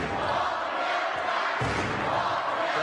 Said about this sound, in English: Crowd here chanting in their traditional manner